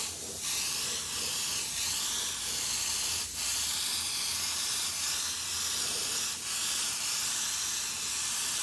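An airbrush lays a thin coat of paint over a baseball helmet, a steady airy hiss close by with short breaks and bursts, continuing without voices.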